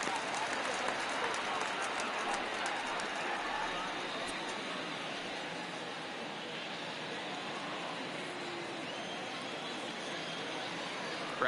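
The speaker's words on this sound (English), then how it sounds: "Crowd gets up for the 3-2." Game crowd at a Twins versus Phillies baseball matchup in MLB The Show 19, a broad steady roar of cheering fans rising for a full count, continuous and even throughout with no clear speech.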